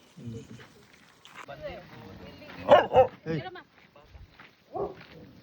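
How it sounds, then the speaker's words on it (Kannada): A dog barks a few times nearby, the short barks mixed in with people talking. "ನಮ್ಮ ನಾಯಿ ಅದೇ ತೋರಿಸಿ ಅವನೇ ಆ ಕಣ್ಣು ಅವನೇ ಅವಾಗಿಂದ ಬಗ್ಳುತ್ತಾ ಇರೋದು"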